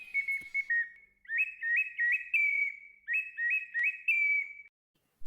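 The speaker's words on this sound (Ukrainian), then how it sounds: "а в Польщі слухали свищик." Bright, high Polish folk tin whistle phrases played alone, quick repeated trilled notes in bursts with short pauses between, fairly quiet and close.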